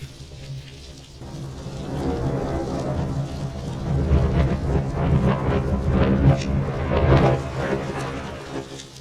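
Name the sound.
thunder played backwards through Lubadh modular looper module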